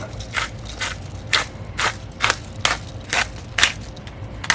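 Black pepper cracking in a grinder during cooking, a run of about nine sharp, even crunches repeating roughly every half second, close and crisp, with no one talking.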